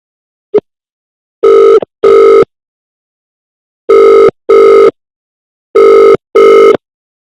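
Telephone rings for a prank call to the police, heard as three pairs of double rings with short gaps between them, clear and alone after one brief click.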